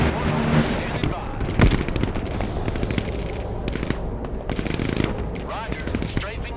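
Aircraft strafing gunfire in the Broken Arrow war game, dense bursts of rapid shots and impacts rattling continuously with a heavy thump partway through, mixed under voices.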